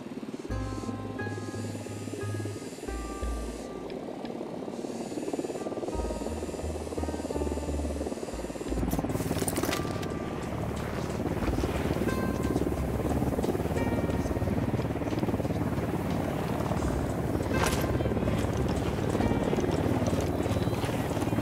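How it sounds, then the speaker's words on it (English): Helicopter approaching during a Ghost Recon Wildlands mission, a low rotor drone that grows louder and fuller over time, mixed with game ambience and scattered sharper effects. "Helicopter inbound."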